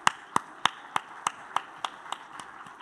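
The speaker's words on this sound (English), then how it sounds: "Perhaps a round of applause to cheer our students." A handful of hands clap for students at an online session, about ten sharp, evenly spaced claps that sound close and sparse, like one or two people rather than a full audience.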